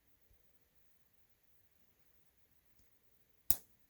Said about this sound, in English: I happen to have some scissors, so that's getting cut.